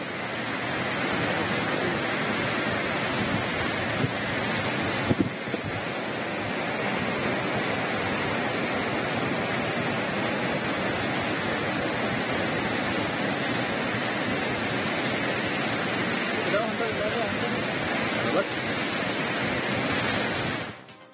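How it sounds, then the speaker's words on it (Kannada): The Kagena river, swollen and flowing in spate after continuous rain, gives a loud, unbroken roar of rushing water that fills the clip evenly from start to end. "ನಿರಂತರವಾಗಿ ಮಳೆ ಸುರಿತಾ ಇರೋದ್ರಿಂದಾಗಿ ಕಾಗೇಣ ನದಿ ಮೈದುಂಬಿ ಹರಿಯುತ್ತಿದೆ"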